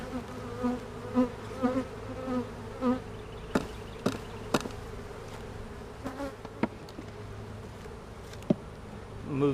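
Honey bees buzz around a freshly made hive split, a dense, wavering drone with individual bees swelling close past the microphone, alongside sharp clicks and taps of frames and equipment being handled.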